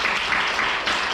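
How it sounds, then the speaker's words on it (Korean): Brief burst of steady audience applause at a sustainable development lecture and panel discussion in Pyeongtaek, dense clapping filling the whole short moment without talk. "이시화 교수님에게 큰 박수 부탁드리겠습니다"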